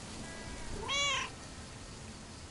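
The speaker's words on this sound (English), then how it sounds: "Here, little kitty, come on." A cat named Mortimer gives a single short meow in the video game Lake, fairly faint against a soft background hiss, with no talk over it.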